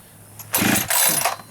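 A brand-new Echo 620 engine, never run before, gets two quick pull-start attempts, each a loud rasping burst of the recoil cord and turning engine, with a short gap between them and no firing.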